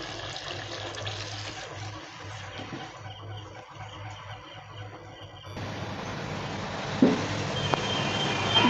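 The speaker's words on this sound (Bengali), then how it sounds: "এবার একটু জল দিয়ে দেবো।" Water is poured into fried spice masala cooking in oil for a hilsa dish, a close hissing wash that shifts and grows brighter partway through, with a small clatter near the end.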